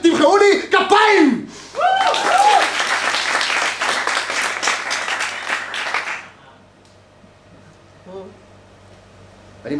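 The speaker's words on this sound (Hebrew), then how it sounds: "וכולכם תמחאו לי כפיים!" Audience applause at a stand-up monologue competition in a studio, a burst of dense clapping and laughter lasting several seconds after someone speaks, then fading to near silence before he resumes talking.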